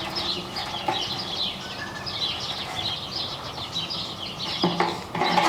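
Chickens moving about a backyard garden pen with a steady rustle and scratching, soft clucks scattered throughout and a brief flurry of flapping or movement near the end, fairly close with no talk.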